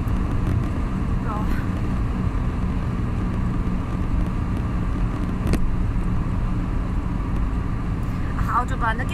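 Inside a car driving on the German Autobahn toward Stuttgart, a steady, loud drone of engine and tire roar fills the cabin, with faint muffled voices and a brief click partway through.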